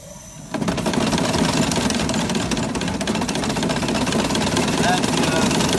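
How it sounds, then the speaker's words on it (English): An 1899 Locomobile steam carriage engine starts running as the throttle lever opens, a sudden jump into a steady rapid chuffing and clattering that stays loud and close, chain-driven to the rear axle. "I'm going to open the throttle a little bit, which is this lever right here. And you can see the engine in action."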